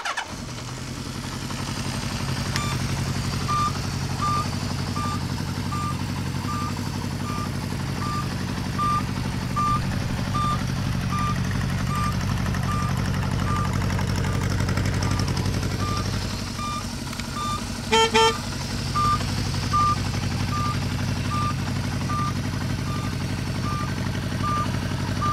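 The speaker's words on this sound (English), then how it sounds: "Factory turn signal buzzer there." A steady, evenly spaced factory turn signal buzzer beeps over a 1975 Honda CB550K motorcycle engine idling nearby, with a brief louder rattle partway through.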